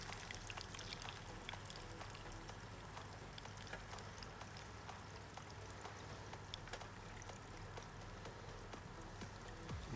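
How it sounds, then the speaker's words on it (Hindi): Water is poured slowly into a pot of chicken stew, giving a steady, continuous splashing trickle with a faint sizzle underneath, close and even throughout with no talking. "फिर बिल्कुल स्लो आप इसके अंदर पानी ऐड कर दें।"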